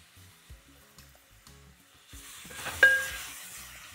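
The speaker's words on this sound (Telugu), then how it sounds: "ఉల్లిపాయ కొంచెం రెడ్ కలర్ వచ్చే వరకు ఫ్రై చేసుకోవాలి" Sliced onions with green chilies and curry leaves begin frying in a pan, starting with quiet clinks and taps before a sizzle swells up in the second half, close by with no talking.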